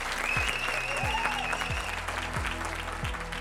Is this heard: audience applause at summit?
yes